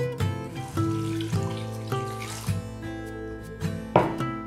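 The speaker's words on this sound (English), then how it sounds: "And to that, I'm gonna pour our one cup of chicken broth" Chicken broth poured into an Instant Pot holding potatoes for mashed potatoes, a steady liquid trickle and splash heard close up under light kitchen clatter, with no talking.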